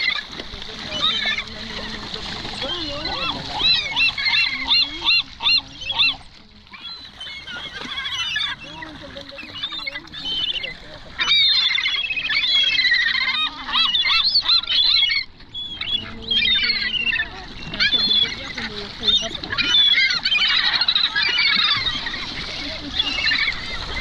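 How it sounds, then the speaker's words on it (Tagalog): Ducks quacking and honking by a catfish pond, a busy, continuous clamour of several birds close by, with splashing water and someone talking over them. "Ito mga itik yan."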